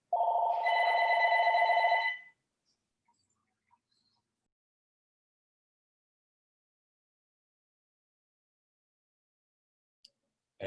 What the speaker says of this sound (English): I think you guys want to hear the phone ringing.